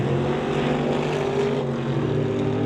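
A Willys drag racing car idles loudly at the starting line of a drag strip, its engine giving a rough, steady, throbbing rumble with no break.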